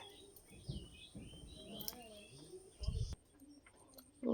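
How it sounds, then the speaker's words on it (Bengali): A pet parrot kept sheltered indoors from cold rainy-season wind gives several short chirps and coo-like calls, close but quiet, with faint voices and household sounds around it. "তোতা পাখি"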